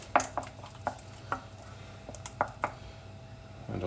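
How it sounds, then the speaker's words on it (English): Thick bechamel sauce stirred in a pan with a utensil, a series of distinct scraping knocks and taps against the pan, fairly close and moderately loud over a quiet background. "Give the old besh a bit of a stir to liven it up."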